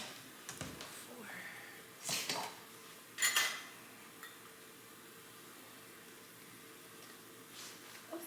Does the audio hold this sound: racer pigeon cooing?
no